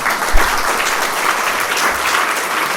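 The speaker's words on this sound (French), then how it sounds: "On va s'arrêter, on va l'applaudir." An audience at a forum in Nîmes applauds a speaker, a steady dense clapping that fills the room from start to finish at fairly loud level, with no voices over it.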